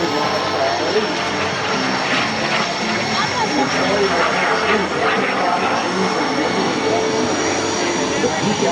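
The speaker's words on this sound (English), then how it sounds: "the tiny jet's not rated for gyroscopic maneuvers or spin" Small jet aircraft flying a display at the Wings Over Camarillo airshow, a continuous engine whine and roar at steady loudness, with an announcer speaking over it.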